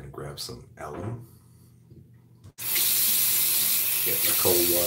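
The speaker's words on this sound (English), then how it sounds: "Get my cold water ready a little bit." Cold water from a sink tap during a wet shave setup, switching on abruptly partway through and then gushing in a loud, steady stream; someone talks before it starts and faintly over the flow.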